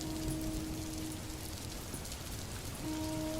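Heavy rain pours steadily on a stormy night, a dense even patter on surfaces with a faint low hum beneath, constant throughout and without any voices.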